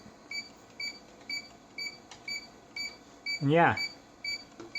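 Short electronic beeps repeat at a steady rhythm, about once every half second, from a floppy drive while its head is being aligned by turning a screw; someone speaks briefly over them.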